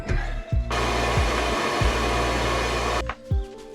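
A heat gun blows hard on red Loctite holding parts of a YZ125 two-stroke dirt bike, a loud steady whooshing roar lasting over two seconds, switched on and off, with brief motor whirs around it.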